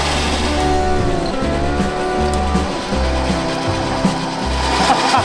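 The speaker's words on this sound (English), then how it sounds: "Simon's decided we're going to hook up the rear winch on the Iveco and we're going to pull that firewood" Rear winch mounted on an Iveco truck hauls firewood off a rack, a loud steady mechanical drone with pulsing engine-like tones and ratcheting rhythm running continuously throughout, with no talking.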